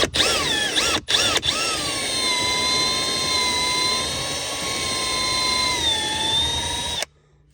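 A step drill bores a 3/8 inch hole in a Ford Bronco dash, a high steady whine after a few short starts, holding pitch with a slight dip before stopping abruptly, loud and close.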